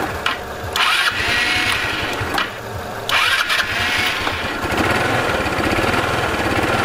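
A cross scooter fitted with an aftermarket Chinese ignition module is cranked and fires up close by, sputtering through a couple of brief dips before settling into a loud, uneven, revving idle.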